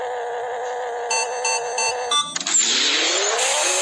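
A Mini Cooper engine in Pixel Car Racing idles with a buzzy tone over short beeps, then revs up sharply into a rising, loud, sustained roar.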